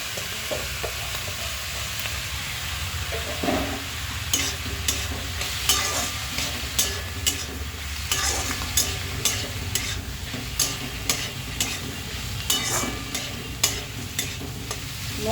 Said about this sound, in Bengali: এরকম পেঁয়াজ রসুনের সঙ্গে গুগলিগুলোকে আমি খুব ভালো করে ভেজে নিচ্ছি